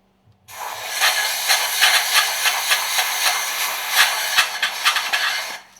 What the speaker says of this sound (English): blow out the grease from the oil ducts using compressed air.